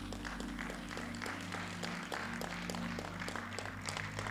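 A summit audience and congregation clapping for standing mentees from a digital college; fairly faint, even applause runs throughout under a low steady hum, with sharp individual claps repeating at a brisk rhythm.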